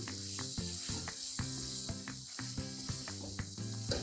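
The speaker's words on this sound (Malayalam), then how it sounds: "ചിക്കൻ ഇട്ടിട്ട് അതിൻ്റെ അരപ്പുമായിട്ടൊന്ന് മിക്സ് ചെയ്തെടുക്കണം" Chicken pieces stirred into masala paste in a pan for a Kerala-style chicken roast, a steady close sizzle broken by repeated scraping and clinking strokes of the spoon against the pan.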